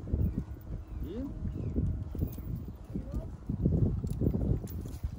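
Hooves clip-clop steadily as a six-year-old girl rides a horse at a riding school, the rhythmic footfalls fairly close under background chatter and outdoor noise.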